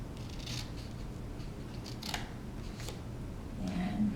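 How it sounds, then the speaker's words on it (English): Scissors cut paper in several distinct crisp snips at uneven intervals, close and fairly quiet over a low background hum, with no talking. "And then we're going to cut up here."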